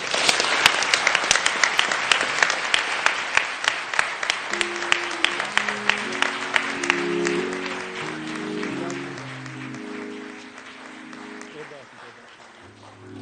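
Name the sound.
crowd applause at a memorial service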